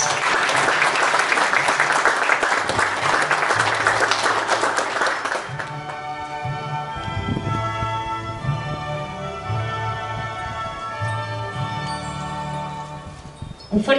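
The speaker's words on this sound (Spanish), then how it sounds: "Un fuerte aplauso a este primer grupo de egresados del Colegio Marambio." A crowd at a high school graduation claps steadily and loudly for several seconds, then the clapping fades out as music with sustained tones takes over.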